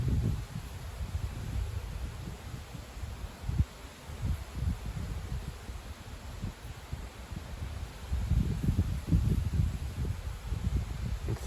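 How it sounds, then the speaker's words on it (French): Strong gusts of wind roar steadily through tree leaves in a broad rustling wash, swelling louder near the end, with no voices. "c'est littéralement un coup de vent qui s'abat"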